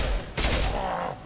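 Concussive shot fired in the video game Mass Effect 2: a sharp, punchy blast that breaks out of dense combat noise and leaves a ringing tail, close and loud.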